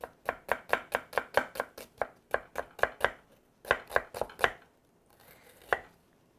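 Kitchen knife thinly slicing a medium-large onion on a cutting board: a steady run of about twenty sharp, close chopping taps in quick rhythm, a brief pause, then a few final strokes.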